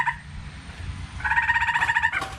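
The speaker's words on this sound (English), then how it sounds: "I think it's a frog underneath the air conditioner" A frog croaking from beneath an outdoor air conditioner near a pool, giving a rapid pulsing trill that starts partway through and runs about a second, fairly close, over a steady low hum of machinery.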